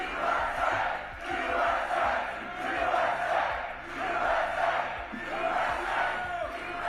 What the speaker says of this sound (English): the baying crowd start yelling, "We love Trump."